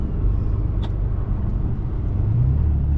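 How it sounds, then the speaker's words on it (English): 6.7 Cummins diesel truck with a pusher-style intake horn, turbo spooling over a heavy, steady low engine rumble, close and continuous, with a brief faint hiss partway through. "the turbo spools up a little faster"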